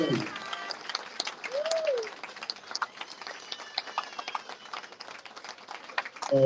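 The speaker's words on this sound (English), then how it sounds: "Let's give them a round of applause" Audience at a human services career support program graduation ceremony claps steadily in a hall, a sustained patter of many hands with a brief voice near the start and another at the end.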